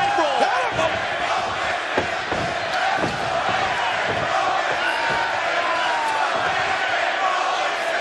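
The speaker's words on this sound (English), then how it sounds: "You hear the reaction from this incredible crowd in St. Louis, Missouri." A large St. Louis crowd at a TNA Lockdown wrestling event roars and chants steadily, with thuds of bodies hitting the ring mat under the din.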